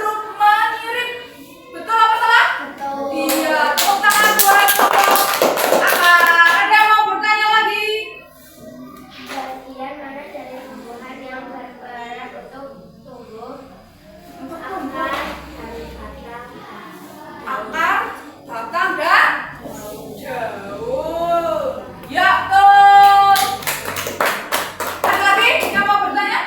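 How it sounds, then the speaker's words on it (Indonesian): A classroom of children claps for a group of pupils, rhythmic bursts of hand clapping that come and go in waves, with children's voices and chatter mixed in between the rounds. "Tepuk tangan buat kelompok"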